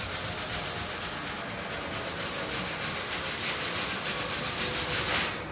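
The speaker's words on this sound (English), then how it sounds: "Should take some sandpaper and always sand the miters just to get rid of any imperfections" Sandpaper rubs back and forth over the mitered joints of wooden door casing, a soft, steady scratchy hiss that continues evenly at close range without pause.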